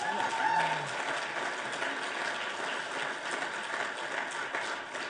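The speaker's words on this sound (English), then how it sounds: "please give both our speakers a round of applause if you would" At an official presentation event with First Peoples representatives, a crowd gives a steady, fairly quiet round of applause for two speakers, an even hiss of many hands with a brief voice at the start.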